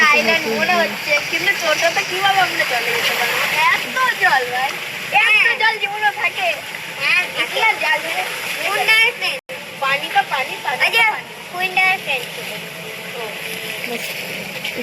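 Rain and splashing water, a dense continuous hiss and patter heard up close at a riverside ghat, with people talking over it throughout.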